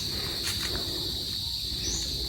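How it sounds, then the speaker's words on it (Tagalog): A bird calls outdoors with short chirps over a constant high insect-like hiss and background noise. "Hindi, ibon iyon."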